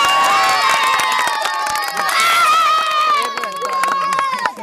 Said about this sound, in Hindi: और अब इनके लिए ताली बजाओ खूब जोरदार